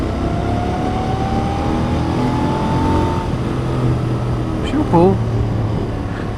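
Royal Enfield Continental GT 650 motorcycle pulling in third gear at about 30 mph: a steady, loud engine drone mixed with wind rush and a slowly rising whine, with a brief voice near the end.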